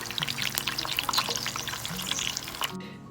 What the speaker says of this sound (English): And then we deep fry mackerel fish.